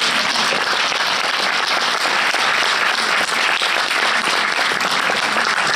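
An audience at a film preview screening claps loudly and continuously, a dense, even wash of applause filling the whole stretch without pause.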